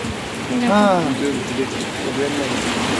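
Steady rain falling outside a shoe shop, a broad continuous patter and wash heard under a person's voice speaking throughout.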